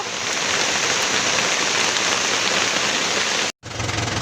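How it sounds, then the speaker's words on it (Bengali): Heavy, steady rain drums on a vehicle's hood overhead during a stop on a rural road, a dense continuous hiss filling the whole stretch, loud and close, broken only by one brief dropout near the end. "তো বৃষ্টিটা ছাড়ুক তারপরে যাব"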